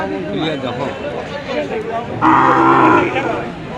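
A bull moos loudly and nearby at a busy cattle market in Shiber Bazar, Sylhet, one long low call rising over the steady babble of people talking.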